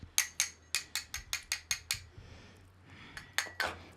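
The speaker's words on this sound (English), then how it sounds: "I've extracted some from our handy dandy forest green grinder from the forest" A forest green herb grinder is twisted in short bursts, giving a quick run of about eight crisp ratcheting clicks, a brief pause, then a few more clicks, close and fairly quiet.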